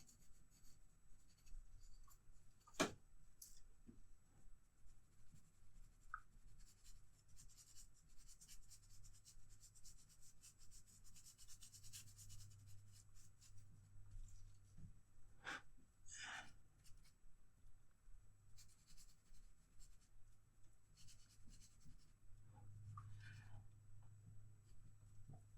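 An HB graphite pencil scratches and scribbles across paper while sketching a toucan, soft rhythmic strokes close up with a few sharper taps, quiet and unbroken by talk.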